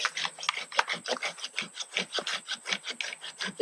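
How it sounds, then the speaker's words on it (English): A hand saw rasps steadily through a thick tree limb in quick, even back-and-forth strokes, close and fairly loud, with no talking. "giving the old saw a test drive on the thicker stuff"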